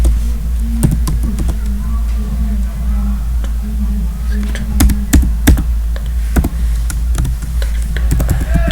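Steady typing on a computer keyboard, irregular clusters of close key clicks over a constant low hum, with a speaking voice in the background.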